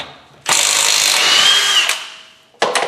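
A Milwaukee M18 Fuel power tool with a 21 mm socket spins off a tight lug nut on a 2019 Ford Edge, a loud whirring burst of about one and a half seconds, then a short rattling ratchet burst after a pause.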